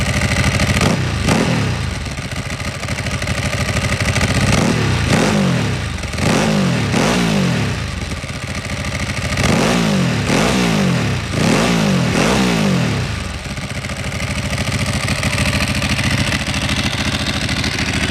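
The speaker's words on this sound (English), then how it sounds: "I'll just give the throttle a blip so you can hear that exhaust." A motorcycle engine idling loudly, then revved in a series of sharp throttle blips, the exhaust rising and falling in quick repeated bursts before settling back.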